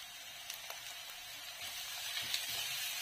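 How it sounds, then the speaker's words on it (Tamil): Onions sautéing in a pan for Mecheri-style brinjal thokku, a steady close sizzle and crackle of frying with a few soft stirring scrapes, growing slightly louder toward the end. "நல்லா வெங்காயம் வந்து நல்லா வதங்கிடணும்"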